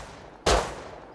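A single sharp gunshot in the survival game Rust, one loud crack with a short decaying tail against quiet background noise.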